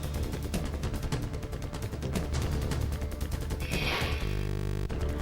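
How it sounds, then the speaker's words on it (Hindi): Gunfire from a shooting in a New York supermarket, heard as dense bursts of rapid, repeated shots over a continuous loud background. "न्यूयॉर्क के सुपरमार्केट में चली ताबड़तोड़ गोलियां"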